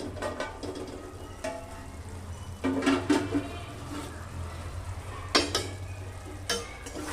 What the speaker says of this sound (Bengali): দেখুন ঢাকাটা খুলে আমি আবারও একবার নাড়বো।